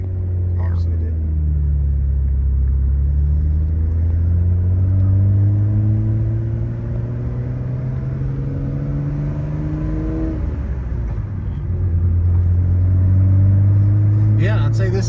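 A straight-piped Nissan R34 GTR V-Spec drives along a leaf-covered road, its engine droning low and loud, rising and falling as it accelerates and shifts, with people talking over the rumble.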